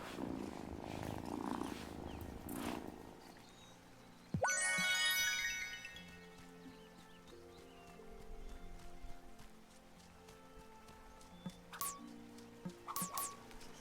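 A cat in the game Wylde Flowers purring softly amid game sounds, with a sharp swishing effect partway through and scattered clicks under light background music.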